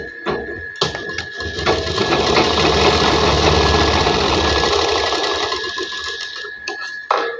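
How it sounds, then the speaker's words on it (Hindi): An electric sewing machine stitches a trouser pocket in a loud, steady mechanical whir for several seconds, with sharp clicks at the start and end. "देखिए हमारी ये सिलाई चल गई"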